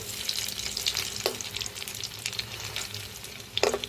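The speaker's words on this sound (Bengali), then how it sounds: "এখন আমি হাতে বানানো নিজে নাগেটসগুলো কয়েকটা আমার টুনটুনিকে ভেজে দিচ্ছি।" Homemade chicken nuggets without breadcrumbs fry in hot oil with a steady, close sizzle and scattered crackling pops. A couple of sharper spatters stand out, and no one speaks.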